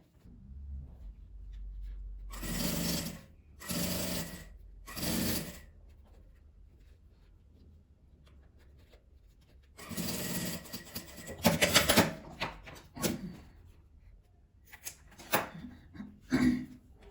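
A sewing machine stitches plastic lining in short separate bursts, three quick runs followed by a pause and then a longer uneven run with handling noises, heard up close and without speech.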